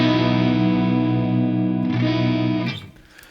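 A Neunaber Immerse Mk1 reverb pedal on its chorus reverb setting turns a sustained guitar chord into a lush, wide, shimmering wash that rings steadily, then fades near the end, with no talking.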